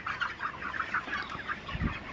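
Chickens clucking in a steady, overlapping chorus at moderate loudness during a hot midday, with no talking.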